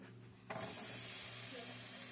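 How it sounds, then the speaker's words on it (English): Vegetables sautéing in a hot pan for Mexican rice, a steady hiss of sizzling that starts abruptly and stays loud and even, close to the pan. "Y'all hear that sizzle?"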